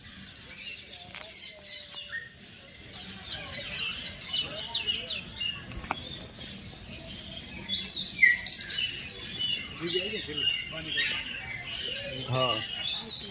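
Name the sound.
black parrots chirping while feeding at Kamati Baug zoo, Vadodara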